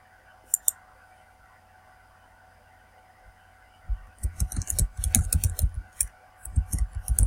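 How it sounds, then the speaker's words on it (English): Rapid clicks of keys being typed on a computer keyboard, starting after a quiet pause with a couple of isolated taps, then a dense, irregular burst of keystrokes close by, with no talk over it. "we're going to type that in our system and see"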